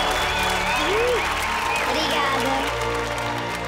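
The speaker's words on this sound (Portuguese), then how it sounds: "Para a menina Bia, uma salva de palmas." A studio audience at a children's singing show applauds a young singer with a dense, continuous wash of clapping, while a voice briefly speaks over it.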